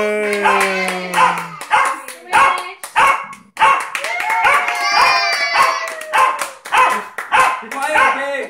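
A dog barks repeatedly in quick, loud bursts with yips and whimpering tones between them, mixed in with people talking nearby.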